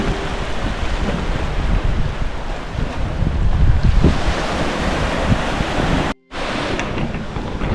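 Ocean surf washes onto a beach in Zanzibar in a steady, loud roar mixed with gusting wind buffeting the microphone, interrupted by a brief cut near the end.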